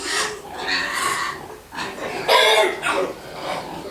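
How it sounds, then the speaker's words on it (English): Pigs on a farm give short bursts of grunting oinks that come and go nearby, uneven and fairly loud. "What's going on over there, pigs?"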